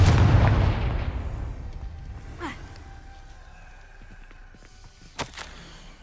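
A Confringo fire spell from the Hogwarts Legacy video game bursts loudly at the start, then decays into a rumbling tail. A couple of sharper cracks follow later.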